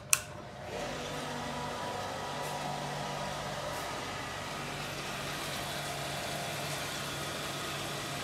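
A water pump motor starts with a sharp click and then runs on with a steady, even hum and whine, a moderately loud and continuous mechanical drone without speech.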